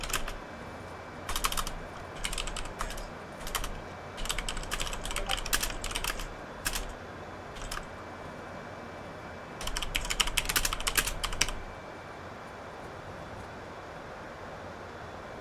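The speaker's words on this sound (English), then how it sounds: "You can hear my keyboard typing, I apologise for that." Bursts of computer keyboard typing come in irregular clusters of clicks, close and fairly quiet, over a steady low hum with no talking.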